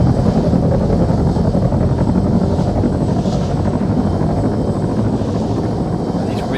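A Hellcat helicopter in Arma 3 drones steadily with a loud, continuous rotor thrum and engine roar, close and unbroken throughout.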